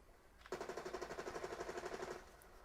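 Rapid automatic gunfire from a video game played on a PlayStation 5, a steady burst of evenly spaced shots lasting under two seconds, fairly close and clear with no talking over it.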